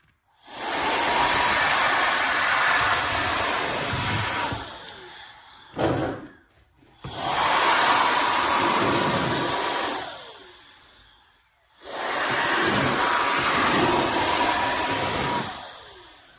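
An ohyes brushless air duster with a high-speed 100,000 RPM motor blows in three long, loud, steady bursts of roughly four seconds each, with a short blip in between and brief pauses separating them.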